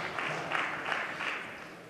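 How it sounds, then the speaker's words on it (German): Scattered applause in a German state parliament chamber, a few rounds of clapping rising and fading over a low room hum, moderate and somewhat distant. "Genau, dürfen gerne klatschen."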